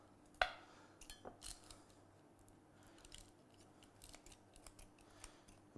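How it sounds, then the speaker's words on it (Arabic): Scissors snip open a plastic package in a home kitchen: one sharp close cut, then a series of lighter, irregular snipping and crinkling sounds, fairly quiet and with no voices. "مقص"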